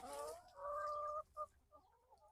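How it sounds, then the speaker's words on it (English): Chickens cluck and warble close by, a few hens calling in short bursts and drawn-out notes over a quiet background. "Here are my chickens."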